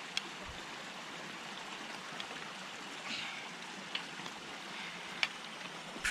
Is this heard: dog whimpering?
no